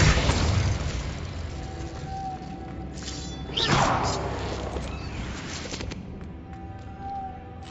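Casting the Incendio fire spell in Hogwarts Legacy brings a sudden whooshing burst about midway, rising over a steady background rumble and music before easing into a softer flickering tail.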